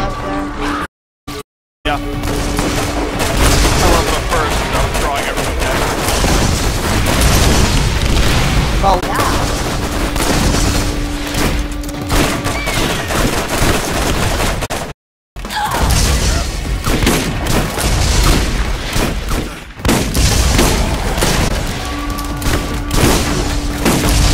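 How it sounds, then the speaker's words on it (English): A dense, continuous barrage of heavy booms and blasts from a video game, rumbling and crashing with barely a pause for over twenty seconds. "many fucking explosions"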